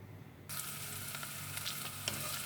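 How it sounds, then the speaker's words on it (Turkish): Carrots hit hot olive oil in a pot with a sudden loud sizzle that switches on and holds as a steady, close crackling hiss, with faint stirring ticks through it. "Öncelikle sırasıyla havuçlarımızı şöyle bir yağda çevirtelim."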